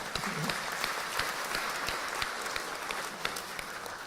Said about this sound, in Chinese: 谢谢你们，我们掌声为台湾喝彩。